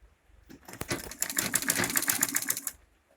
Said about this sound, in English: So I'll go ahead to sew it to the other end.